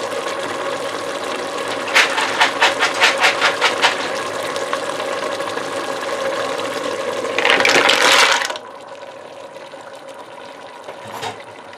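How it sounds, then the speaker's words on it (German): Live mussels tipped into a hot pot on a stovetop turned to full heat, giving a quick run of rattling shell clicks, then a short loud hiss and clatter before things settle to a low, steady simmer. "Und jetzt kommen die Muscheln rein."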